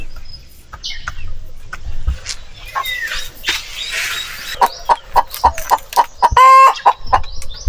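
Roosters and hens on a farm cluck and squawk close by, building into a rapid run of loud, rhythmic clucks near the end, with no one talking.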